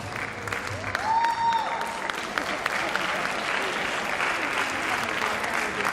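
Sustained audience applause at a live stage event in Armenia, a steady wash of clapping hands filling the room throughout, with a brief whistle-like tone rising early on.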